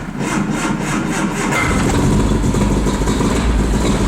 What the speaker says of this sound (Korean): 네, 시동이 드디어 걸렸습니다.